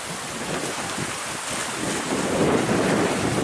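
Strong wind of 15 to 20 knots roars across the microphone while waves rush and slap around a sailboat racing through the Straits toward Tarifa; the noise stays loud and continuous, swelling near the end, with no voices.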